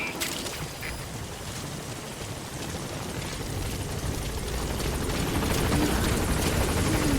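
Helicopter from the video game Metal Gear Solid V approaching a landing zone, a steady broadband rotor drone that swells gradually louder as it nears, with no talk over it.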